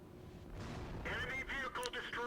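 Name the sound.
tank gun firing in World of Tanks video game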